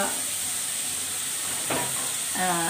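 Salted onions fry in a pan for khichuri, giving off a steady close sizzling hiss. Brief voice sounds briefly break through near the end.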